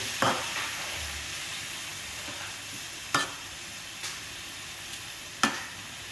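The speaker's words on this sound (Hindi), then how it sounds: "दोस्तों अच्छी तरीके से टमाटर को पकाएंगे।" Tomatoes cook for anda tamatar in a pan with a continuous sizzling fry, punctuated by a few sharp clinks of a spoon or spatula stirring against the pan.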